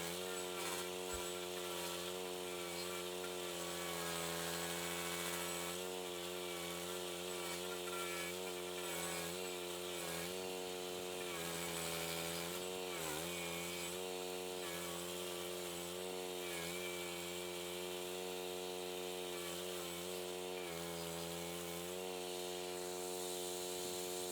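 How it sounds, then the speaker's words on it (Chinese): A hand-push cutting machine with a dull blade grinds into tree stumps during a house renovation, its motor a loud, steady, buzzing drone that holds for the whole stretch with slight dips in pitch. "这种手推式切割机只适用于3颗中小型树桩以下"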